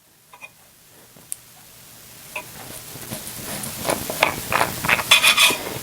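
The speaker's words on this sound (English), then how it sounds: "now I'm going to cut up some bacon and fry this." Bacon being cut up and fried in a pan, starting with scattered knife taps and clicks and building into a growing, crackling sizzle that grows louder toward the end.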